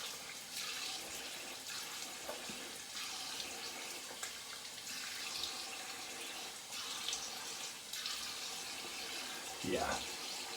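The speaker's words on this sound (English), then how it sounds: "I'm rinsing off with some warmish water." Warm tap water runs steadily while a face is rinsed after a straight-razor shave, with splashing and hand movements through the flow and soft speech mixed in.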